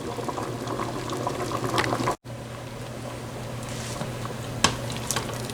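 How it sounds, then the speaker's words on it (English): A pot of split peas, rice, gizzards and smoked pork simmers at a steady boil, giving a continuous close bubbling hiss broken by one brief dropout and a single sharp click later on. "This is going to continue boiling."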